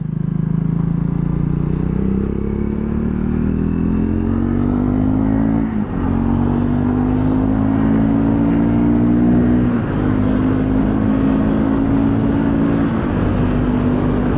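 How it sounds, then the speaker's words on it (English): A Triumph Scrambler 400X motorcycle cruises at speed toward 70 mph, its engine hum climbing steadily under heavy wind rush at the helmet, loud and continuous, with one brief dip near the middle. "the bike rides really nice. I'm going up to 70 miles an hour without any issues."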